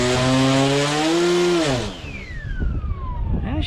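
Electric motor and propeller of a 3D printed radio-control plane throttling up: a loud, steady high whine rises briefly then winds down in a falling pitch sweep, with rumbling handling noise near the end.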